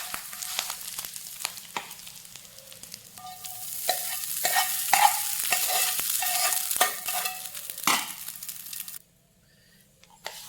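Tempering is stirred into lemon rice in a hot pan, giving steady scraping and stirring strokes over a soft sizzle, close and moderately loud, before the sound cuts to near silence at the end.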